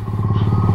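Close idle of an Astrea Prima classic motorcycle engine, a steady low throbbing putter with rapid even pulses, loud and alone.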